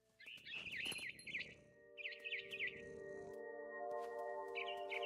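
Bird chirps from What Remains of Edith Finch, a mama bird perched in a big tree, come as bright warbling bursts in three clusters over a low ambient bed and a sustained tonal hum.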